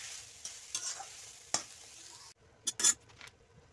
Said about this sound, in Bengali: ভালো করে নেড়ে চেড়ে নামিয়ে নেব